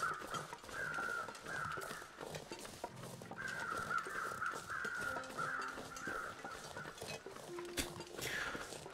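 Several crows in The Long Dark caw over a faint ambient background, rapid rasping calls arriving in quick groups, fairly close, with short pauses between bursts.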